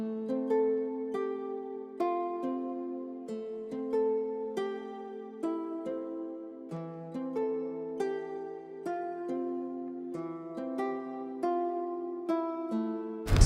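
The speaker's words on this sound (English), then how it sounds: "So now with the effects on, the guitar sounds like this." A mellow, sad guitar beat processed with reverb, saturation and EQ plays alone, plucked notes and chords ringing out in a slow, steady repeating pattern with soft decaying tails.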